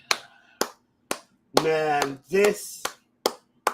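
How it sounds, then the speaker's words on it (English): A single person claps hands several times in sharp, separate claps, fairly close and loud, between bursts of a man's speech. "I'm giving my round of applause."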